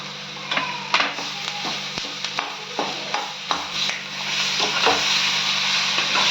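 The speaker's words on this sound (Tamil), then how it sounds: "வேக வச்ச உருளைக்கிழங்கு போட்டுக்கோங்க" Boiled potatoes with turmeric frying in a pan, crisp sizzling punctuated by repeated sharp clacks and scrapes of a spatula stirring and mashing, rising to a steadier fry toward the end; no talking.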